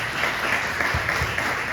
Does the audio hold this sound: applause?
yes